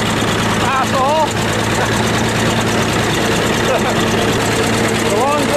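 A bulldozer engine runs steadily with a low idling drone while being driven on a farm in snow, loud and close, with brief squeaky whistles over the top.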